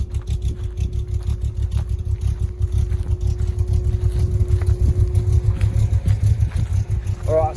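A Holden Torana being driven on the road, its low engine drone rumbling steadily throughout with constant road noise, fairly loud and continuous.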